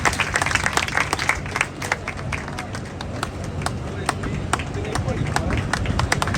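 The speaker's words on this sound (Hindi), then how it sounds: "उनका भी जोरदार तालियों से स्वागत" Loud, steady clapping from a crowd gathered at a staff association meeting in Sonipat, with distinct sharp claps over a busy, noisy background.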